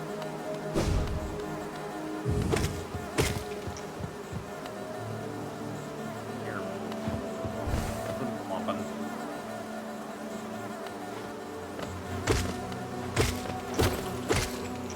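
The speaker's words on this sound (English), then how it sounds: "I really don't like the fact that I have to hurt all the little bees." Steady, close droning buzz of bees in the video game Hollow Knight, continuous throughout, with occasional sharp thuds and hits cutting through the hum.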